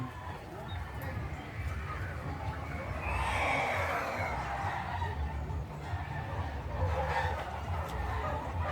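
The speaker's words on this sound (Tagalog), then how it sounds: "abunda kay natoy daghang mga manok" Chickens clucking and calling around a backyard farm, mid-distance and fairly steady, mixed with outdoor background noise and some indistinct human sound.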